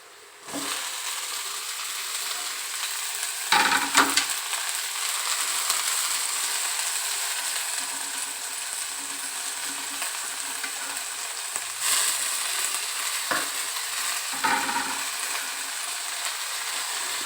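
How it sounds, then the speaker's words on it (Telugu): Fenugreek leaves fry in a pan with a steady, close sizzle that runs throughout, broken by several louder scraping bursts as they are stirred. "చూడండి, ఫ్రై అవుతుంది."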